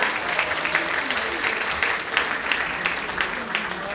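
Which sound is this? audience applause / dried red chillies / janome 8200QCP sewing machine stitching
audience applause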